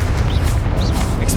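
A Confringo blasting spell from Hogwarts Legacy bursts out as a loud, dense boom with a heavy low rumble, sustained over a brief moment with crackling brightness at the end.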